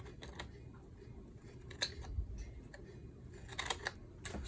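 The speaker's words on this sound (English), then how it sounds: "And then we can trim this piece off." Scissors trimming a piece of paper for a junk journal, a few sharp close snips spaced apart over a quiet room background.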